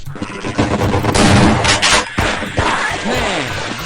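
Gunfire in the video game Half-Life 2, loud sharp bursts over dense game noise with a voice talking throughout.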